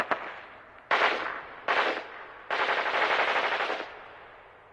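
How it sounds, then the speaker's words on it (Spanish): Machine gun fire in three sustained bursts, the last one longest, after a sharp opening crack; loud and close with no voices. "De repente, una metralleta empezó a disparar."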